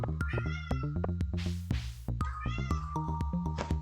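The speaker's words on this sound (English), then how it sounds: "Our cat just came in." A cat on a farm meows again and again as it comes indoors. The calls are close, loud and drawn out, with a brief rough rustling burst partway through.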